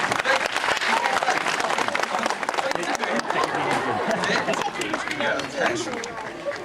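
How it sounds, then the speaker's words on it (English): Clapping from a crowd at Longleat, fairly loud and continuous throughout, with chatter and an adult voice talking over it. "A little bit more clapping."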